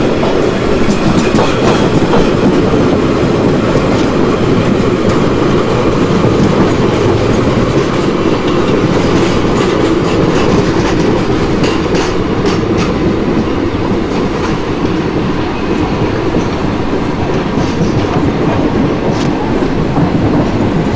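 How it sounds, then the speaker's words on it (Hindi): Indian Railways Bhusaval–Katni passenger train running in the Open Rails simulator, a loud continuous rumble of wheels and coaches with rhythmic clickety-clack over the rails and no voices. "चलिए 35 किलोमीटर पर आर के नियर हमारी ट्रेन जो है आई चुकी है।"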